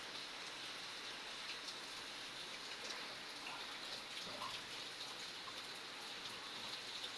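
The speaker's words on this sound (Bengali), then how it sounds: "দেখছো বৃষ্টিটা কেমন হচ্ছে" Rain pours down in a steady, even hiss, continuous and fairly soft, with no voices and no breaks.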